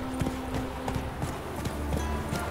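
Hooves of Roach, the horse in The Witcher 3, clip-clop in a quick, even galloping rhythm, close and fairly loud over a low game background hum.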